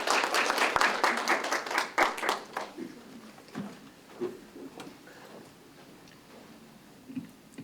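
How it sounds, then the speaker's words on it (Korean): Audience at a literary award ceremony applauding to welcome a prize winner, a warm burst of clapping that swells briefly then thins out into scattered claps and quiet room noise. "여러분 따뜻한 박수로 맞이해 주시기 바랍니다."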